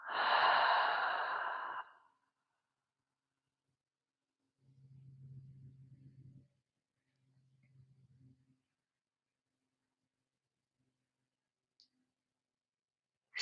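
Deep yoga breathing: a forceful, breathy exhale up close at the start, then after a pause two softer, lower breaths in and out, with near silence between them.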